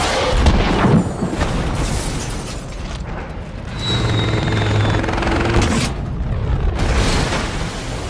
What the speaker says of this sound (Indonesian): mereka mengerahkan pasukan helikopter dengan Gatling gun-nya